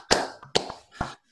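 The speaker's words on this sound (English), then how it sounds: "Thanks for clapping for yourself." One person claps for himself, giving three sharp, close hand claps in a quick uneven rhythm, with a lighter tap in between and no talking over them.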